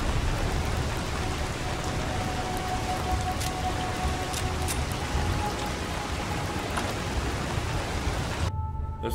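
Steady rain falls in Fallout 4, a dense continuous hiss of drops on surfaces with a few sharper patters, moderately loud and uninterrupted until a sudden cut near the end, with no speech.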